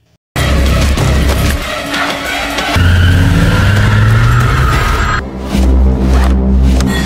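A car speeds away in a scene from the 2025 thriller film Drop: loud, dense engine roar with rising revs and a possible tire squeal, layered over a continuous film soundtrack with no clear talk.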